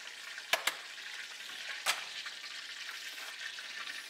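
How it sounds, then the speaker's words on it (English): Trout fillet frying skin-side in a pan gives a steady, soft hiss, broken by a couple of quick clicks and a scrape near the start. "it's just to crisp up the skin and cook the meat through"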